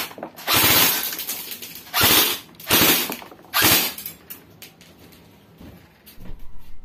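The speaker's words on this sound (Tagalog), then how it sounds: "Magpo-full auto naman tayo ngayon" Airsoft gun on full auto peppering an FMA F1 full face mask, four loud bursts of rapid snapping impacts spaced about a second apart, followed by quieter scattered clicks and handling.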